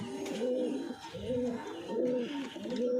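A pigeon in a loft gives repeated soft, throaty coos in a rhythmic, rolling pattern, close and clear over quiet background.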